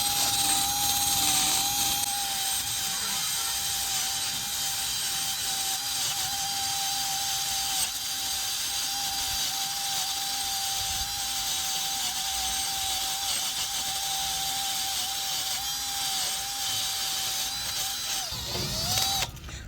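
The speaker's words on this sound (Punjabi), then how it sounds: "ਲੋਹੇ ਦੀਆਂ ਤਾਰਾਂ ਵਾਲਾ ਬ੍ਰਸ਼ ਆ ਤੇ ਮਿੰਟੋ ਮਿੰਟੇ ਦੀ ਰਗੜਾਈ ਕਰੂਗੀ" A steel wire brush scrubs rust off an old copper pipe before welding. It makes a loud, continuous abrasive whir with a steady high whine, running unbroken for about twenty seconds close by.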